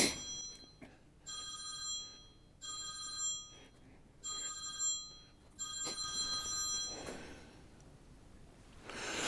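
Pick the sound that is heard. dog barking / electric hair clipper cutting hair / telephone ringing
telephone ringing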